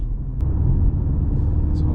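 A 2025 BMW M135 with 300 hp under way, a steady, moderate engine drone and road rumble filling the cabin without being overpowering, continuous and fairly close.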